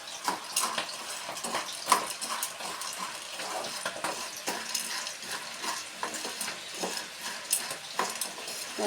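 Hot fried chickpeas tossed with ground roasted spices in a pan, giving a continuous close rustling, scraping stir with light sizzling and scattered utensil clicks.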